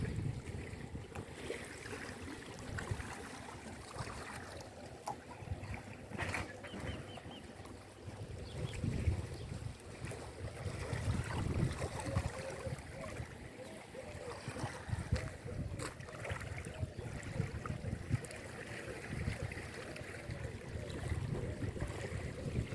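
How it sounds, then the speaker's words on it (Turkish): Lake water laps and splashes softly near moored boats along a village lakeshore, a continuous low wash with occasional small slaps, heard outdoors amid faint background voices and ambient noise. "Suyun sesi huzur veriyor insana."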